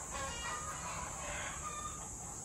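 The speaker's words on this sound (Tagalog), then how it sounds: "Second batch ng ating mga paitloging manok." Laying hens of a second farm batch cluck and murmur in a steady, busy flock chorus, heard faintly from close range with a constant hiss, no one talking.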